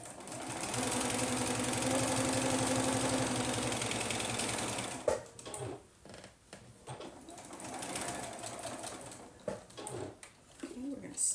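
A sewing machine stitches a back tack on a fat-quarter tote bag, running steadily for about four seconds and then stopping. Softer handling and rustling sounds follow.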